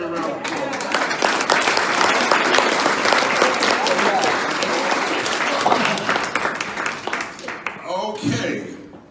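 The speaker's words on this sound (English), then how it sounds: "Give me a round of applause." A full audience applauds loudly and continuously at a jazz concert, a thick wash of clapping lasting around eight seconds, with a voice briefly emerging as it fades at the end.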